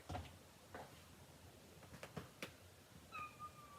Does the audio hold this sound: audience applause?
no